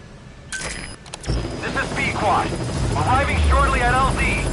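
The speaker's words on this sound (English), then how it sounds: "Go ahead and call the chopper from your iDroid." A military helicopter arriving in the video game Metal Gear Solid V: rotor thump and engine whine swell from a sudden start and grow louder and nearer, with someone speaking over it.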